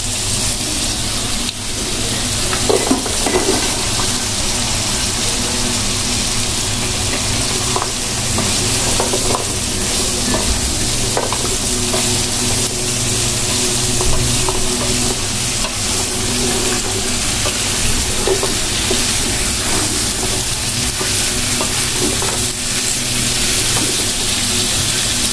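Vegetables sizzle loudly in a pan of oil with cooked-down spices, a dense continuous frying hiss broken by frequent stirring scrapes and clinks of the spatula, close and alone without talk.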